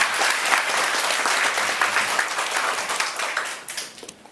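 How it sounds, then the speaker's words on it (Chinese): Sustained applause from an audience at a talk, dense steady clapping throughout that thins slightly toward the end. "所以谢谢热烈掌声"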